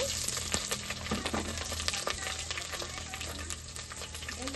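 Garlic paste fries steadily in a pan for a country chicken curry, giving a continuous, moderate sizzle with small crackles and no one talking.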